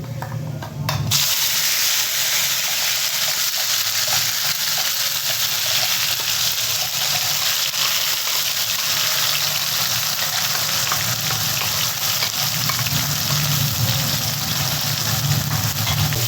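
Steady, loud sizzling of banana stem frying in hot mustard oil with mustard seeds, a constant hissing crackle that runs without pause after a brief quieter start.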